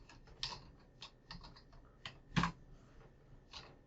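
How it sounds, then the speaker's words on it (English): Typing on a computer keyboard, a short run of crisp irregular key clicks with one louder tap near the end, close up and alone. "let's type in there quit"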